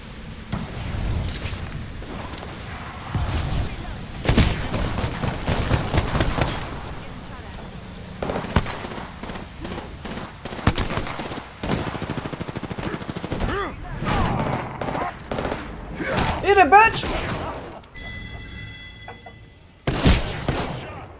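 Rapid gunfire bursts from Apex Legends crackle repeatedly across the whole stretch, loud and close, with shooting volleys mixed among game effects and voices talking over the action.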